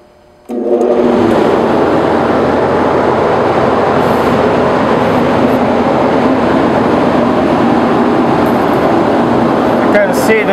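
A panel rolling machine starts up after a brief quiet moment, then runs with a loud, steady mechanical roar and rumble that continues unbroken to the end.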